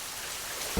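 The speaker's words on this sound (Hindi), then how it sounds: "कितनी भयंकर बारिश हो रही है?" Heavy rain pours steadily onto a waterlogged construction site piled with gravel and cement, a dense continuous hiss close by, with a brief heavier thud near the end.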